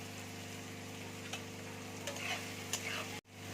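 Chopped green chillies sizzle softly in a shakshuka pan as a faint, even frying hiss, with a few light taps of stirring and no talking.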